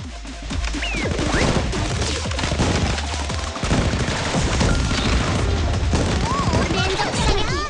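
A Blue Archive battle fills the scene with dense gunfire and booming explosions, loud and continuous, with rapid shots layered over heavy impacts, while character voices and game sounds weave through the din.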